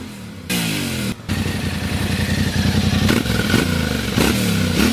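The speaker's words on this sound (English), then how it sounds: "The stock exhaust from the Tenere sounds not bad at all." A Yamaha Tenere motorcycle with its stock exhaust idles and revs close by, a loud throbbing engine note rising in several quick blips, with clatter and brief cuts in the sound.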